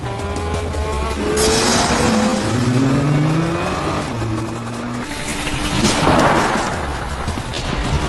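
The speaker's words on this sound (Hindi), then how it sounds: "सारी 15 कार सेक्टर 1 की चढ़ाई फुल स्पीड से पार कर चुकी है।" A pack of fifteen race cars climbs the first sector of a circuit at full speed, engines roaring continuously with rising and falling revs and Doppler sweeps as cars pass, loud and close.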